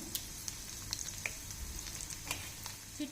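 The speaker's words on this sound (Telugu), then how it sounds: "ఇక్కడ ఇంగువ వీటిని దోరగా వేగనివ్వాలి" Garlic cloves and dried red chilli pieces frying in hot oil, giving a steady soft sizzle with scattered small pops and crackles throughout, fairly quiet and close, with no talking.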